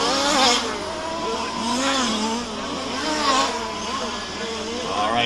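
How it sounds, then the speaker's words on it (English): Race car spinning out during a Warm Springs kart-style A Main race, engines whining and tires squealing in wavering sweeps, under continuous excited commentary. "Oh, but he spins it."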